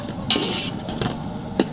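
Mutton gravy masala with garam masala being stirred in a pan: a close sizzle under several scraping strokes of a spoon, with one sharp clack near the end, and no talking.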